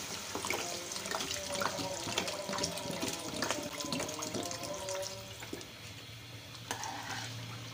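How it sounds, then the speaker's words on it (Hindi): Water splashes and gurgles steadily into a pot of aloo matar gosht curry, a continuous close liquid pour with faint clinks and background hum, no voices. "पानी ऐड कर देते हैं इसमें"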